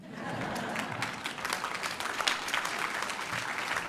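Steady, dense applause from an audience at a French political rally against pension reform, sustained and even throughout with a faint voice underneath.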